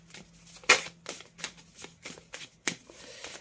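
Tarot cards being shuffled by hand, a quick run of crisp riffling flicks and snaps in an uneven rhythm, close and clear with no talking.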